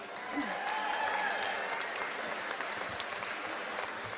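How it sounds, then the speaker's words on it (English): Audience applause at a San Angelo dance-competition charity show, a steady wash of clapping from a crowd, fairly distant and even, with a little voice sound mixed in. "Let's give them all a round of applause"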